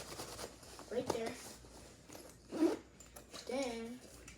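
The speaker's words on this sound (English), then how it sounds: "here goes the zippers. You can open it like this." Zippers on a Sprayground backpack are pulled open in three quick rasping bursts, fairly close and moderately loud, with brief pauses and a little background voice between them.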